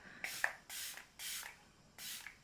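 Four short bursts of makeup setting spray, evenly spaced and close, each a soft airy pump with quiet gaps between.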